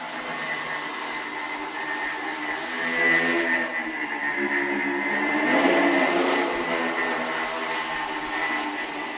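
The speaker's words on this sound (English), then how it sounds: "This machine over here is actually 2 separate 2-propeller flying machines." Twin two-propeller flying machines joined into a quadricopter hover nearby, giving a continuous loud whirring buzz with a steady tone that swells gently a couple of times.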